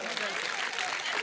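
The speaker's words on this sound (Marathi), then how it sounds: "हा इजू भाऊची बहीण डॉक्टर व्हायली तिच्यासाठी एकदा जोरदार टाळ्या होत्या" Applause from an audience at a motivational speech for Ambedkar Jayanti, a steady broadband patter of many hands clapping, fairly loud and continuous, with voices mixed in.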